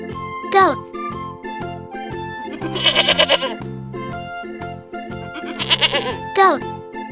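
Domestic goat bleating twice, each a loud, quavering, close cry a few seconds apart, set over a bouncy children's music backing track with no talking.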